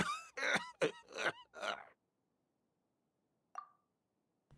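A Genshin Impact character coughs and clears his throat in a quick series of rough bursts, then goes quiet before a short faint grunt.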